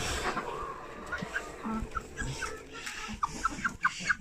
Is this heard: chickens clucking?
yes